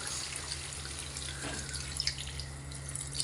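Water pours steadily into a cooking pot of chicken feet adobo with a continuous hiss and light splashing, fairly quiet and unbroken, with a few small drips standing out.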